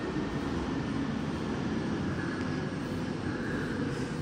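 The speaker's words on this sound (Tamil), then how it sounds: "ஃப்ளைட் போகிற சவுண்ட் அப்படியே கேட்கலாம்." An airplane passing overhead above a flat in Guindy, a steady broad engine roar that holds evenly throughout, heard from indoors without anyone talking.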